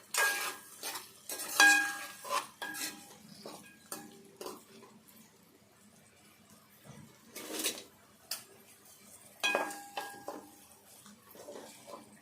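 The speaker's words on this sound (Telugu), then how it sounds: "ఈ మిల్ మేకర్ కొద్దిసేపు అయితే ఈ నూనెలో మంచిగా కొద్దిగా గోలాలి" Soaked soya chunks (meal maker) being stirred and fried in oil in a pan, with scattered scraping and clinking of a spoon against the pan in uneven bursts over a faint background, quiet overall.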